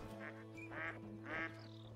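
Ducks, a drake and a hen, quack on a New England mountain duck hunt, with two distinct raspy quack bursts plus a softer one, moderately close against a quiet steady hum.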